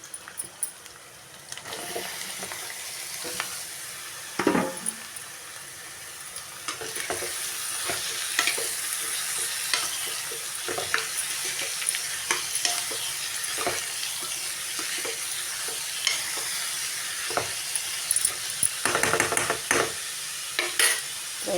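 Onions sizzle and fry in a pan with repeated scraping and clinking from stirring, a steady close-up hiss broken by sharper utensil knocks, with no talk.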